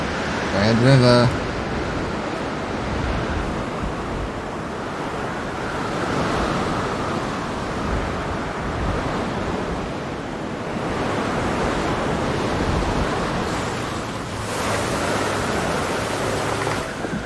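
River water rushing in Jurassic World, a steady broad wash of flowing water that stays loud and constant throughout, with brief game tones near the start.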